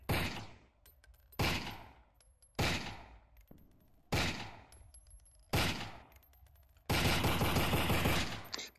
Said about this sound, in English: Can I shoot the bottles?